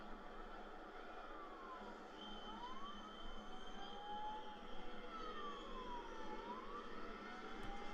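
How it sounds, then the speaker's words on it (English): A wailing emergency siren rises and falls in long sweeping tones, heard faintly at a distance over steady low background noise for the whole stretch, with no one speaking. "I hate that bloody siren."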